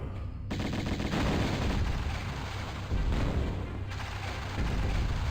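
Gunfire in the 1996 Tomb Raider game, a dense, loud burst of shots and booms rolling almost continuously with brief breaks between volleys, no speech over it.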